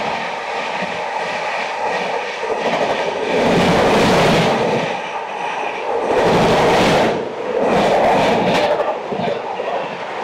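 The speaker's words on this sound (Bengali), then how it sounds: "ফুল স্পিড নিয়ে ছুটে আসছে 22/861 ইস্পাত এক্সপ্রেস উইথ ওয়াপ 7" The Ispat Express, hauled by a WAP-7 electric locomotive, rushes past at full speed, loud and close, its wheel rumble and rushing air swelling in waves as the coaches pass a standing train.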